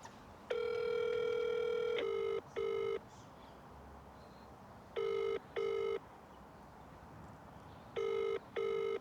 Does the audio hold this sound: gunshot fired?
no